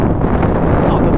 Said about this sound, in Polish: no to jest poryw, to 15 węzłów